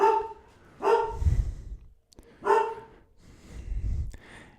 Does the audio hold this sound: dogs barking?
yes